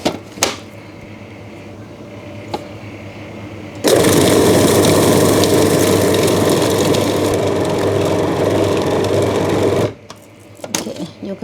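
An electric mincing machine grinds chicken for Thai luk chin gai meatballs, a loud steady motor whir running about six seconds, framed by quieter kitchen knocks before and after.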